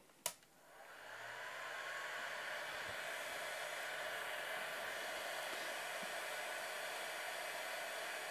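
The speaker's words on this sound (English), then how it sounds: "Now I'm going to turn on my noisy hairdryer." A noisy hair dryer runs steadily and loudly while a bassoon reed is being made, starting with a click and then holding a continuous broadband whoosh.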